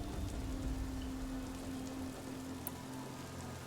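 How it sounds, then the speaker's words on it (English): Rain in the video game Horizon Zero Dawn, a steady hiss of falling drops on surfaces, faint and continuous with a low hum underneath and no voices. "Really like the rain on their faces, the way they did that."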